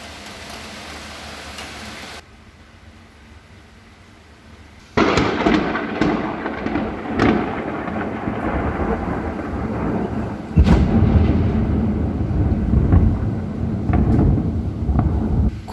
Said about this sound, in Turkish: Çok fena gök gürül dedi.